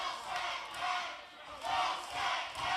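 Wrestling crowd at an OVW show reacting to wrestler Joe Mack, a swelling, rhythmic chant that rises and falls in waves, heard from a distance and fairly faint.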